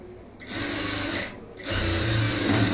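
A sewing machine stitches a lined stone-model blouse, its motor whirring loud and close in two quick bursts with a brief pause between.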